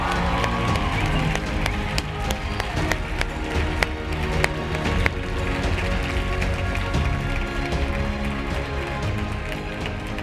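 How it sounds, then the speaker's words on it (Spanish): An audience at a Spanish medical conference greets a speaker's entrance with loud, dense clapping and cheering, a continuous roar of many hands with sharp individual claps standing out close by. "Recibimos con un fuerte aplauso al líder del corazón de la cardiología, a Felipe Díez."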